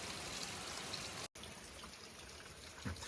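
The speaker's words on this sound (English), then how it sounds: "And raining like crazy." Heavy rain pours down in a steady, dense broadband wash of water, loud and continuous with no one talking, broken only by a brief dropout partway through.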